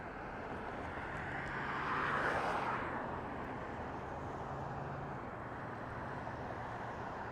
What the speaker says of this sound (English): it's going to be Southwest flight SWA 2608 heading over to Phoenix, Arizona. And this is going to be a Boeing 737 MAX 8.